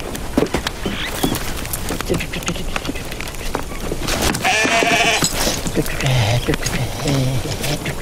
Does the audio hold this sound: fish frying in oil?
no